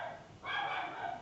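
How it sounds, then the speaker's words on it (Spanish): A pet dog barks somewhere nearby indoors, one muffled, drawn-out bark rising over a low steady background hum. "mi perro anda por ahí ladrando."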